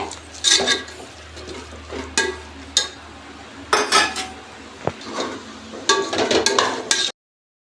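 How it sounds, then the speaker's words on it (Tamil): A spoon scrapes and clinks against a pan in repeated bursts while chicken curry with masala is stirred, light sizzling running underneath, close and intermittent, ending abruptly. "போட்டு நல்லா கிளறி விடுங்க"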